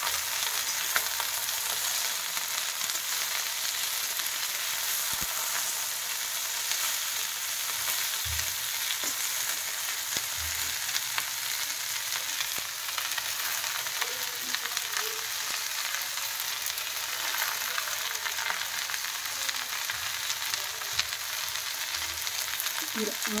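Fenugreek fries in a pan with a steady, dense sizzle that carries on evenly throughout, close and bright, broken by a few faint stirring knocks and no talking.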